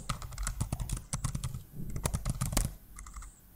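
Rapid keystrokes on a computer keyboard as Python Selenium code is typed, a steady clattering run of close, crisp clicks with brief pauses and no talking.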